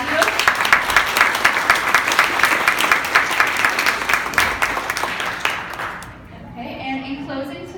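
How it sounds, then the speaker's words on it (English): A room at a college honor society chapter event breaks into sustained applause for standing panel members and trustees, dense clapping that fades out near the end as a voice begins. "if you want to stand up so we can applaud you"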